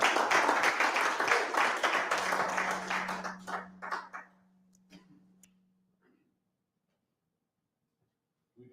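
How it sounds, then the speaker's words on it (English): Dense applause from a crowd, loud at first and then fading out over several seconds into near silence. "Let's give a round of applause."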